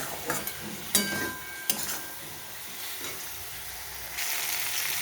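Vegetables for Bengali shukto sautéed in a pan, a continuous sizzle with a few sharp clinks of a spatula against metal, close and steady.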